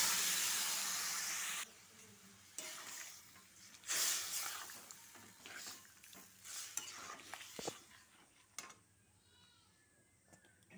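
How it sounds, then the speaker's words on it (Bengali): Water mixed with ground coriander, cumin, ginger and green chilli is poured into a hot pan of frying masala, giving a loud, close hiss that cuts off abruptly, followed by quieter sizzling and scraping stirs. "এবার মশলার জলটা দিয়ে দিলাম।"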